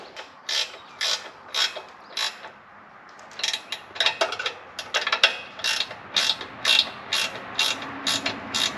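A 7/16 inch swivel-head ratcheting wrench clicks in sharp, evenly spaced bursts of rapid pawl ticks, close and clear, with a short pause before the ratcheting resumes, working bolts on a Split-Fire 1165V vertical log splitter.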